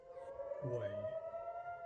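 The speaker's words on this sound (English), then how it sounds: "Sirens sounded immediately in Israel." A steady wailing air-raid siren tone in Israel holds throughout, with a brief low rising sweep partway through; no voices.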